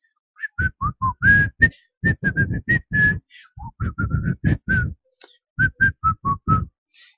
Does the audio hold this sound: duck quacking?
no